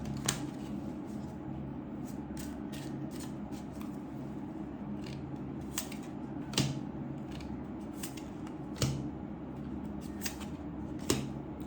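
Soft, steady rustling and shuffling of tarot cards with occasional sharper snaps and taps, close by and fairly quiet, with no talking.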